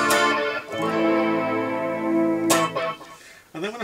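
Sustained electric guitar chords ring out with a shimmering, warbling modulation from the mod setting of a Flashback delay pedal, sharp pick attacks cutting in before the notes fade.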